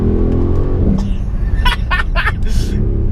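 Mercedes GLE63 S performance SUV pulling hard in third gear, a steady loud engine roar with the revs climbing, heard from inside the cabin under light chatter.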